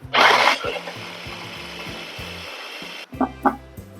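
Onions are ground for a Myanmar fish roe curry, making rough, ratcheting mechanical grinding strokes: a loud burst at the start, a run of steady churning with pauses, then a few short, sharp bursts near the end.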